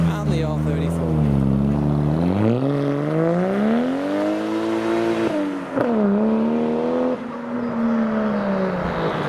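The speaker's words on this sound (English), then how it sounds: "You'll see that the Supra is leaving as well. That is definitely a turboed manual Supra." A turbocharged manual Toyota Supra pulls away from a car show, its engine revving and shifting through rising and falling tones, loud and close, with a voice speaking briefly over it.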